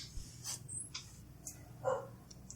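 A dog, in the background of a Batman podcast episode, gives faint, sparse barks and yips against a quiet background, a few short separate calls with no talking over them.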